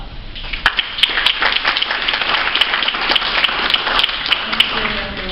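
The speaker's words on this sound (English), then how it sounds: "So please give her a round of applause." Audience applause at an academic senate town hall meeting, a steady burst of many hands clapping that fills the room throughout, fairly loud.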